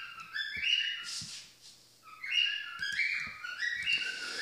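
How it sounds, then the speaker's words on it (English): A pet cockatiel whistles a series of bright, rising and falling melodic phrases, close and clear, with short pauses and faint knocks between phrases, no talking. "It's a cockatiel. Yeah, that's a pretty bird."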